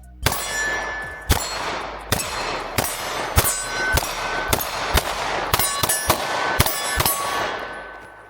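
Smith & Wesson Shield X pistol fired in a quick string of about a dozen sharp, loud cracks, several following each other closely, each leaving a bright metallic ring.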